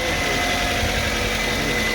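A 2005 Mazda MX5 engine idling with a battery that is not charging, a steady, loud mechanical hum and whine that runs on without a break and without any talking.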